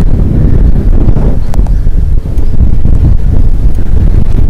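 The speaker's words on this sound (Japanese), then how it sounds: "南風が" Strong southerly wind buffeting the microphone at Aokata port ferry terminal, a loud, gusty low rumble with brief lulls and no speech.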